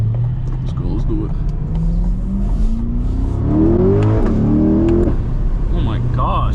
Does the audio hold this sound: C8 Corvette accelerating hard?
yes